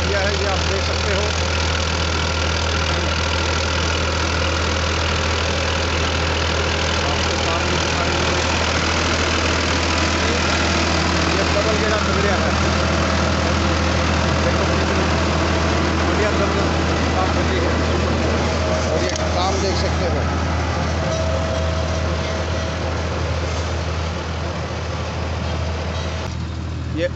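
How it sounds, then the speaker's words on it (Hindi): A Farmtrac tractor pulling an Agrizone super seeder through a farm field runs in a loud, steady, close diesel drone with a low knocking rumble, continuous the whole time, with talk faintly underneath. "ड्राइवर भाई बैठ गया है और ट्रैक्टर चलता कर दिया है"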